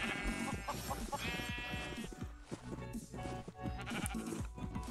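Sheep in the video game Minecraft bleat twice in drawn-out, wavering calls, loud and close, over a busy, continuous game soundtrack.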